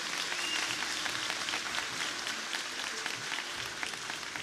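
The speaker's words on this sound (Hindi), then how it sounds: "इस पे तो भरपूर तालियां होनी चाहिए" Studio audience applause during a Ramadan special iftar television transmission, a quiet, steady patter of many hands clapping throughout without any speech.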